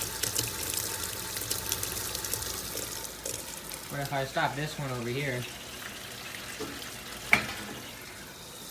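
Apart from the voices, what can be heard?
washing machine filling with water for rinse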